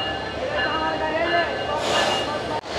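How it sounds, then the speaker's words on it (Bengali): The Cox's Bazar Express 814, made up of Korean coaches, rolls into a station platform with a steady loud rumble, a hiss rising near the end, and a sharp break just before it stops. "এই তো আমাদের কক্সবাজার এক্সপ্রেস 814 কিন্তু অলরেডি তার প্ল্যাটফর্মে আসতেছে"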